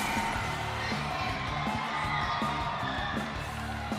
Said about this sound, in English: Ladies and gentlemen, the crowd's going wild here.